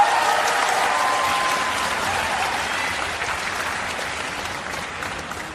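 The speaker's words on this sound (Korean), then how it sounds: "다시 한번 큰 박수 부탁드리겠습니다" At the Daegu Concert House, a concert audience gives a children's vocal ensemble loud, full applause, a thick roar of clapping from a large hall crowd that slowly tapers in strength toward the end.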